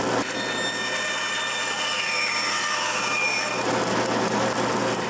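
A bandsaw cuts around the outlines of wooden bowl blanks in a woodshop, giving a steady, loud rasping whine that runs unbroken and close by, with no talk over it.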